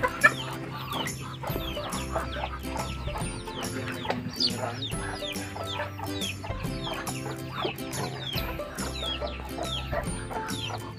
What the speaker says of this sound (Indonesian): Selain entok, di sini juga ada ayam ya.